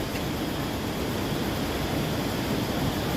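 The Khone Phapheng waterfall on the Mekong in Laos, a dense, continuous roar of rushing, swirling water, loud and unbroken throughout.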